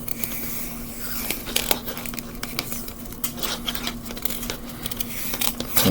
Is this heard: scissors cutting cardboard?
yes